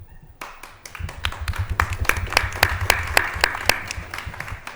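A small audience at a panel discussion on new housing breaks into applause, a loose burst of distinct claps that builds quickly and holds steady in a room, without speech.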